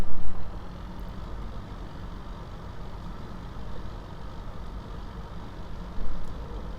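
Combine harvester and tractor engines from Farming Simulator 15 hum in a steady low-pitched drone that holds even throughout, with brief swells in loudness at the start and again near the end.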